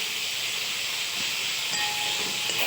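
Boiled eggplant and beans fry in a pan with green chillies, a steady broad hiss of sizzling oil with a faint clink or two, close and alone without speech.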